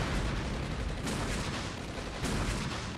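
Heavy gunfire and blasts in the Armored Brigade war game form a loud, continuous, booming roar with two stronger bursts that swell and fade.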